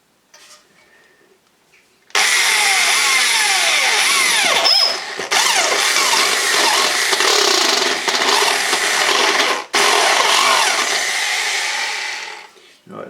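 A jigsaw cuts a curve in a garage workshop, a loud continuous buzzing saw run lasting about ten seconds with a brief pause midway, then winding down.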